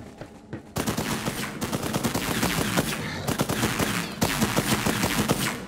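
Rapid bursts of automatic gunfire from the video game Borderlands 3, sharp repeated shots in dense volleys with brief gaps between them.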